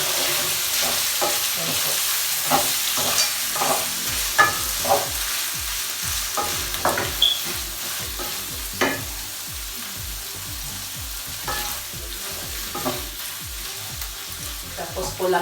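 Shredded boiled chicken and broth going into a pan for a Filipino pancit dish, with stirring scrapes and a low sizzle under occasional brief talk.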